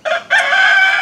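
Meat chickens kept on a sawdust and whey bedding cluck and call close by, a short burst followed by a longer sustained vocalization, loud and alone without talk.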